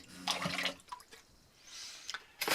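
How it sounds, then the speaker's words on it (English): Water from cleaning off grid is poured back into a bucket, a faint splashing and trickling that swells in short bursts around quiet gaps, with no talk. "And that water is going back in the bucket again."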